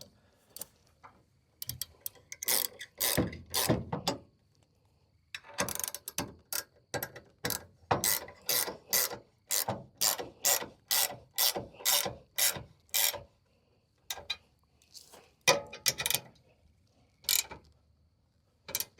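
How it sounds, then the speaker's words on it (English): A ratchet wrench tightens a trailer hitch in repeated bursts of sharp, rapid clicking, close and distinct, with brief pauses between strokes and no talking. "you grab your ratchet wrench, and you just want to tighten it even on both sides"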